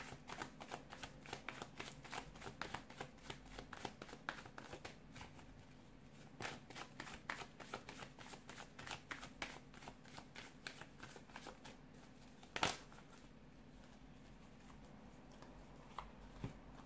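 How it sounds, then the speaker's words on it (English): Tarot cards are shuffled steadily in the hand, producing continuous soft riffling and patter for the whole stretch, fairly quiet and close, with one sharp tap near the end. "give the cards a shuffle"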